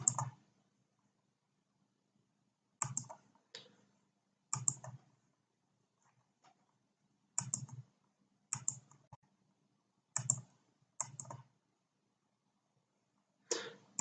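A computer mouse clicks about nine times in short, sharp bursts spread across a quiet stretch, close and fairly soft, with near silence between the clicks.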